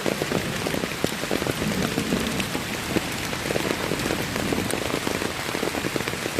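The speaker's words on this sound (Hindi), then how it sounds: "बारिश बहुत तेज़ हो रही है आज" Heavy rain pours down in the Khalanga forest, a dense, continuous hiss of drops striking leaves and ground, loud and even throughout, with no voices.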